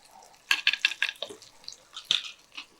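Ginger, garlic, green chilli and onion are stirred in a pan, giving quick scraping and clattering strokes in two short bunches, close and clear.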